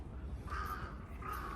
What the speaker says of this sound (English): Oh, gee, that's a big crow.